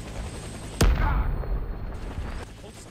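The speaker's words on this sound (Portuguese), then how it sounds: "o cara tacou a granada aqui, ó. Deixa eu tacar no meu pé pra vocês ouvirem" A grenade goes off right beside the player in the Warface shooter, one sudden loud blast with a booming low tail that fades into a muffled ringing hush, as if hearing is knocked out.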